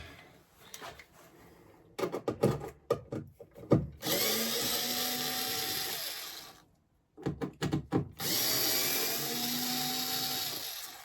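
Handheld power screwdriver driving screws while fitting point motors under a model railway layout board, heard as several bursts of whirring with short pauses and clicks of handling between them, close and fairly loud.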